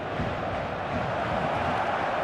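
Stadium crowd roar on match day in the eFootball video game, a dense continuous wash of cheering spectators holding steady and loud throughout.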